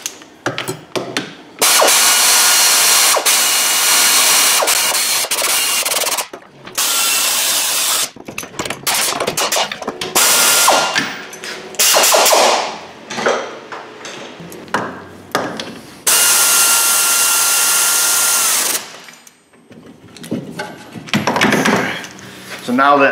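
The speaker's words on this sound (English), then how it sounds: "we lightly have them in there with the air ratchet" An air ratchet snugs wheel bearing bolts on a Chevy Traverse, firing in loud, close bursts of rapid buzzing rattle separated by short pauses and metallic handling noises.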